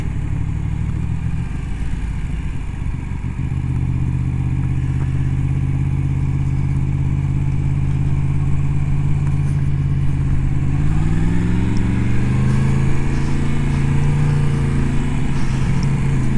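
A Yamaha MT10 motorcycle accelerates, its engine note holding a steady loud drone before climbing in pitch as it revs up through the gear, continuous and close with no talk.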